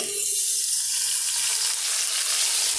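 Potatoes sizzle and fry in hot oil in a pan, a steady, loud hiss filling the whole stretch without pause, with faint low clatter underneath and no talking.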